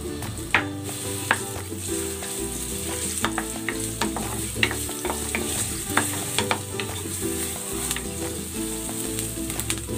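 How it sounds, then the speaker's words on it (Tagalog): Ginger sizzling and frying in hot cooking oil in a pan, a steady loud crackle with frequent sharp pops and occasional stirring scrapes throughout, no talk. "Igigisa ko na tong luya."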